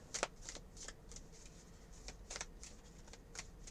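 A deck of tarot cards being shuffled up close, quiet riffling bursts and soft flicks repeating irregularly with no talking.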